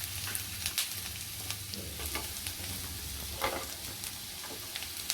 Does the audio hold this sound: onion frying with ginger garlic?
yes